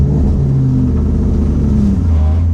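Engine of a new RTR car revving as it pulls away from a stop, a steady loud rumble with rising and falling tones throughout.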